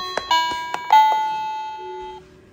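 A small toy piano on a baby play gym chimes when kicked, with a few bright, tinkling tonal notes close by, one note ringing out for about a second before fading.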